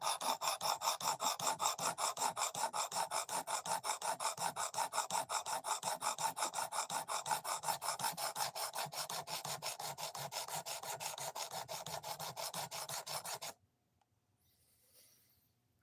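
Knife edge drawn over a 220 grit sharpening stone in fast, even back-and-forth rasping strokes, close and continuous, then abruptly stopping near the end.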